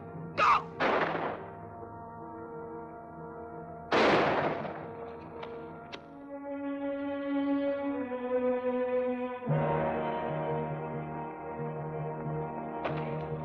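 Gunfire in a dramatic scene: a few sharp, loud shots crack out near the start, two close together and one more a few seconds later, then give way to a sustained low tonal drone with no further shots.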